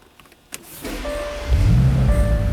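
A click and a brief whir, then a 2006 Bentley Continental GT Coupe engine cranks with keyless start and catches into a steady idle hum, close by.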